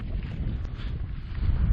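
Wind gusts buffeting the microphone on a South West Coast Path hike, a steady low rumble that swells louder toward the end, with no voices.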